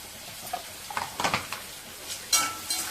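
Chopped onions, curry leaves and green chillies sauté in a pan for a beetroot kootu, with a soft sizzle under scattered spoon scrapes and light clinks against the pan, close and fairly quiet.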